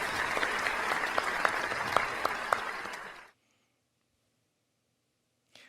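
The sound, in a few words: applause welcoming teachers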